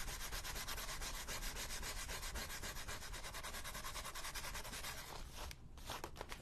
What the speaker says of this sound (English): sometimes you can just sand them and the writing will kind of come off